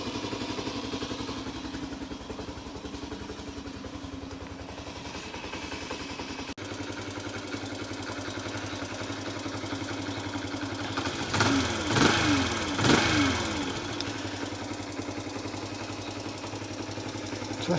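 A Honda C90 motorcycle engine with a replacement carburettor and Chinese starter idles steadily nearby, a low even putter broken by a brief louder clatter or blip partway through.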